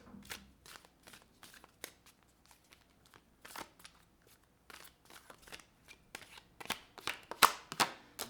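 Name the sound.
tarot cards being shuffled and drawn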